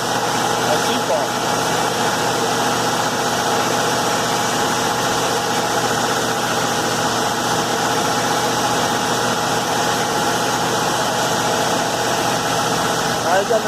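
An old heavy Chevy engine idles steadily with a rough, continuous mechanical clatter suggesting valve lifter noise, running evenly and close throughout with no pauses.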